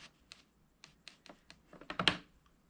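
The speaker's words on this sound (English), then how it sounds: "we're going to put it in our trimmer, and we're going to trim this" A paper trimmer trims a cardboard box top for a Christmas craft: a run of light, separate taps and clicks, then a louder, rasping slice near the end, close by and alone.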